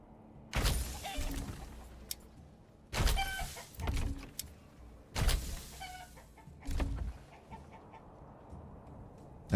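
Chickens clucking in the medieval village game Manor Lords, four short bursts of squawks spaced a second or two apart over a faint ambient background, no talking.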